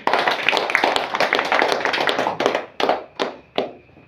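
Clapping breaks out from an audience at an inauguration ceremony for a governor and regional officials, a burst of close, loud applause that thins into a few separate, sharp claps spaced out at the end.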